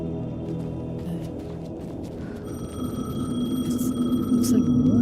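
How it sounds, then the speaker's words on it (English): A payphone rings in Alan Wake II, its repeated electronic trill coming in partway through, growing louder and holding steady over a low, rumbling game ambience. "The payphone was ringing."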